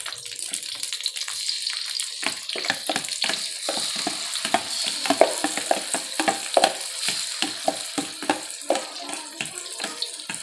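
Blended chili paste sizzles in hot oil over a low flame while being stirred for leek sambal. A steady close crackle runs throughout, broken by repeated scraping stir strokes, with no talking.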